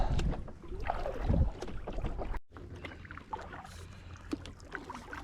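Kayak paddle strokes dipping and pulling through water, a series of splashy swishes at an uneven pace, close by, with light wind noise.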